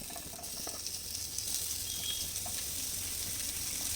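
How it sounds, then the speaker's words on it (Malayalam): Sardines fry in a pan for a Kerala-style dish, giving a steady, soft sizzle with faint crackles and pops. The sound stays fairly quiet and no one speaks. "നമ്മുടെ മീൻ വറുത്ത് ഏകദേശം ആയിട്ടുണ്ട്"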